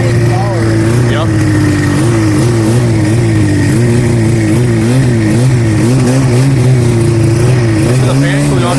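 A 1985 Yamaha Phazer snowmobile engine revs up close and loud, its pitch wavering up and down continuously with steady throttle changes for several seconds.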